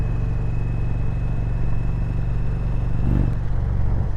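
Steady low engine rumble of a 2020 Indian Roadmaster Darkhorse motorcycle riding slowly on a road, continuous and fairly loud, with wind noise throughout.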